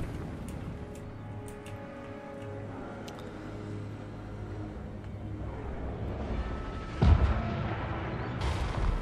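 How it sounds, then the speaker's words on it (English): A Skaven Warp Lightning Cannon fires in a Total War Warhammer 2 battle against High Elves, one heavy booming blast cutting through a continuous rumbling din of combat. "My Warp Lightning Cannon is absolutely shredding this Princess"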